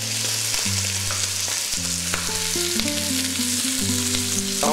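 Veal bone pieces brown in a hot pan with steady, close crackling and sizzling fat, overlaid by a few sustained tones of background music, with no talking.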